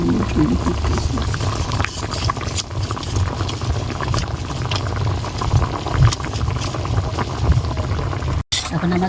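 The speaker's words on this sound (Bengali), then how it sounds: "এখন আমার ঝোলটা ফুটছে" Fish curry broth boils hard in a pan after water is added, a loud, continuous bubbling and gurgling that stays close throughout, with a brief dropout near the end.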